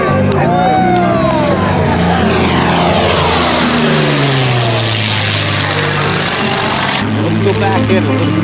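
A propeller airplane drones loudly overhead, its engine pitch sweeping down as it passes close by, with crowd voices beneath.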